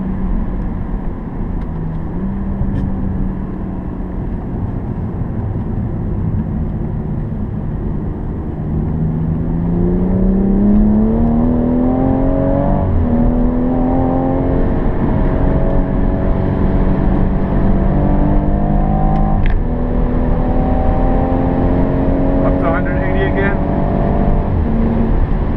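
A 2017 BMW M240i accelerates at full throttle on a wet race track, its engine note climbing steadily in pitch through the gears as a loud, continuous roar, with brief dips at the shifts and someone talking over it.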